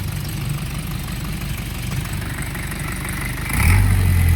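A Mitsubishi 4M51 diesel engine in a surplus Japanese self-loader truck, freshly serviced with new oil and coolant, idles with a steady low rumble close by, then revs up slightly near the end.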